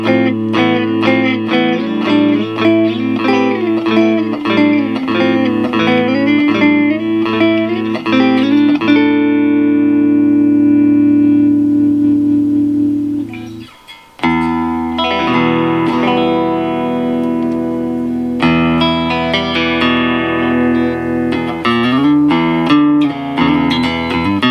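Fender Jazzmaster electric guitar with a clean tone through a Monoprice Stage Right 5W valve combo amp, strummed chords and picked notes ringing loud and steady, a long sustained chord, brief near-silent gap, then more strummed passages.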